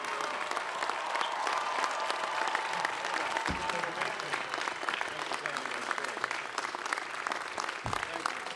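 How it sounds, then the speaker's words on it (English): Graduation ceremony audience applause at UC San Diego, a broad continuous wash of clapping from a large crowd, moderately loud, with a couple of low thumps partway through. "A big round of applause."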